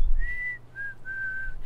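A person whistles an imitation of a black-capped chickadee call: three clean, sustained whistled notes, the first and last longer with a short one between, close and clear against quiet background.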